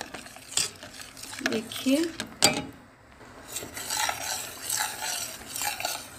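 Cornflour being stirred into a pot of chicken corn soup, a spoon scraping and clinking against the pan in uneven strokes, with a brief spoken word over it.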